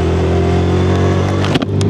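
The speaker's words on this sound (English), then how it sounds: "Get the revs built up and then into fifth." A Lexmoto Assault 125cc motorcycle engine drones loudly and steadily as it builds revs on a country-road test ride, with a brief dip near the end as it shifts gear.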